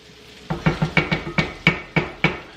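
Corn being stirred and spread in hot oil in a pan, a series of about nine sharp spoon scrapes and clacks against the pan at a steady rhythm over a faint sizzle.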